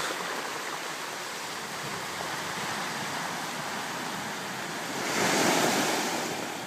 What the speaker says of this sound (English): this is the ocean.